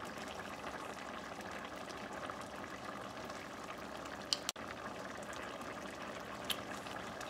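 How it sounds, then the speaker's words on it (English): A Brazilian stew of fish, shrimp and mussels at a steady boil in a pot, giving off a quiet, continuous bubbling hiss with a couple of brief clicks partway through and no talking. "So it's up to a boil now."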